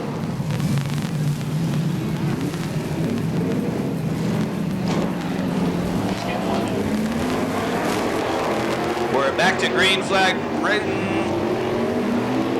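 IMCA modified dirt track race cars roar through turns 1 and 2 at a green-flag restart, a continuous engine drone with pitch sweeps as cars pass, under steady announcer commentary over the track PA.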